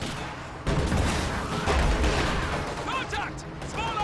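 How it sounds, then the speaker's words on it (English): Partisans firing PTRS anti-tank rifles at a Panzer in Company of Heroes 2: sharp cracking shots and booms over battlefield din, with a commentator talking throughout and a few whistling projectile sounds near the end. "Partisans trying to fire on the Panzer"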